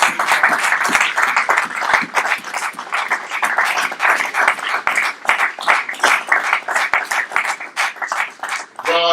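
A church congregation applauds and cheers for the Lord, with dense sustained clapping that pulses steadily throughout and rises and falls as the crowd keeps it going.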